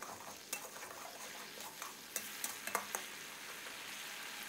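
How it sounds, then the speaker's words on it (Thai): A sauce of sugar, oyster sauce and water is stir-fried in a pan, a faint steady sizzle broken by scattered sharp clicks and scrapes of the spatula against the pan. "แล้วให้เราผัดให้เข้ากันเลยนะครับผัดให้น้ำซอสของเราเดือดเลยครับ"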